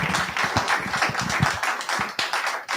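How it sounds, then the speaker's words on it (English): Lecture audience at a sports and law event applauding a speaker, many hands clapping in a full, close wash with some distinct loud claps, tapering slightly near the end. "Another round of applause, please."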